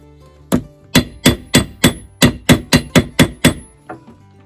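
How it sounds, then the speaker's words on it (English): An automotive body hammer strikes leather rivets sharply about a dozen times in a steady rhythm, each blow ringing briefly, then two lighter taps at the end. "I like to finish setting them with a automotive body hammer."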